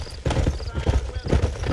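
Horse hooves clip-clop in the Western video game Red Dead Redemption, a steady walking rhythm of soft thuds close by, with a faint whinny and a voice talking over it.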